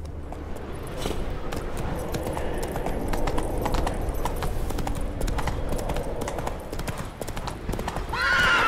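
Horse hooves clip-clop at a steady gallop in The Witcher 3, with a whinny near the end, over game ambience while a player talks intermittently in Portuguese and English.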